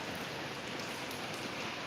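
Rain falls steadily over a house with a newly built gutter frame, a soft, even hiss of drops that continues without break, faint and fairly distant.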